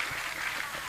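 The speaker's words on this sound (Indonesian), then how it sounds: "Tepuk tangan dulu dong." Audience applause at a political speech in Indonesia, a soft, even wash of clapping heard from some distance, continuous for a brief moment with no talk on top.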